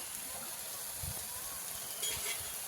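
Spices and shrimp sizzle in a pan with greens, a steady, fairly quiet frying hiss that runs on without pause.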